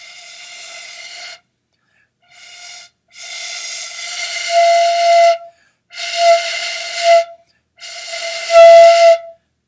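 Homemade carved wooden woodwind instrument made for kids, blown in a few separate notes: a short breathy toot, then longer airy tones that hold a steady pitch and grow louder, alone with pauses between.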